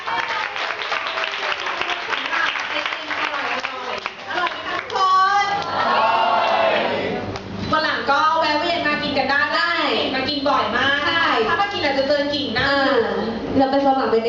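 A crowd at a birthday party applauds warmly for the restaurant, steady loud clapping filling the room with voices and cheers mixed in.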